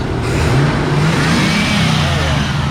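A car engine with headers is held at a revving, steady roar for a few seconds. The loud, close growl stays fairly even throughout, with no talking over it.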